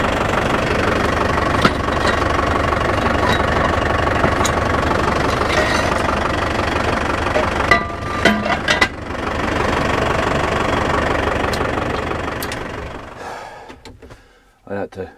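A tractor engine with a hedge trimmer attached idles with a steady low rumble and knock, loud and close, before cutting off near the end.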